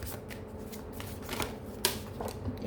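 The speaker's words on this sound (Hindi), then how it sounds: "कार्ड गिरा, एक सेकंड।" A deck of tarot cards is shuffled by hand, with quiet, soft riffling and rustling, a few scattered card taps, and one sharper click as a card drops.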